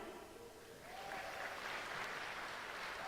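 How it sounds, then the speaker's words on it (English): Audience applause at a live-streamed university event with Virginia delegates being introduced, rising after a second into a steady, moderately distant clapping wash that holds to the end. "we can clap for all of them, guys."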